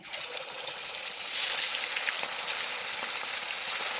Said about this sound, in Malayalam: അപ്പോൾ നമുക്കിതിലേക്ക് ചിക്കൻ പൊരിക്കണം